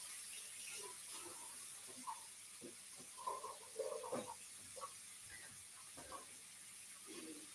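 A faucet runs at a sink while hands are washed, a soft steady hiss of water broken by faint splashes and small knocks, quiet and close, with no speech.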